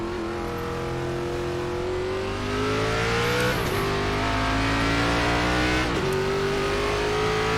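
A race car in an ARCA racing game at Phoenix accelerates hard, its engine climbing steadily in pitch through two quick upshifts, loud and close with no talk.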